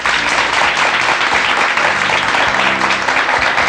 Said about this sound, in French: On l'applaudit, Sylvie, hein?